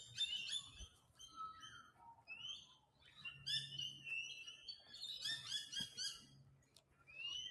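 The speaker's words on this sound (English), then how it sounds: "All around me, I'm surrounded by sounds of birds." Birds sing in a forest with overlapping chirps, trills and whistles from several directions, some close and some farther off, against an otherwise quiet backdrop.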